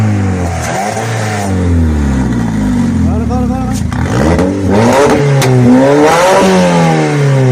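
A car engine is revved hard with the throttle pressed, the pitch climbing and falling in repeated loud close surges while voices talk over it.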